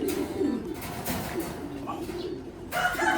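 Pigeon cooing up close, a few low, throaty coo phrases under a background of other birds' chirps and some nearby noise.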